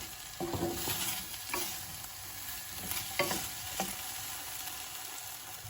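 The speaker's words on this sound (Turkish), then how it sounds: "Şimdi birazcık sıvı yağ ekliyorum. Hafif kızarmasını istiyorum." Meat for çökertme kebab fries in a little oil in a pan, giving a steady, close sizzle with a few stirring scrapes and knocks spread through.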